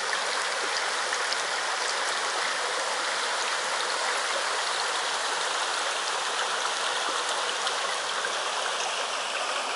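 Steady, continuous rush of a mountain stream at the headwaters of the Nišava river, water flowing and splashing over rocks close by, even in level throughout with no voices.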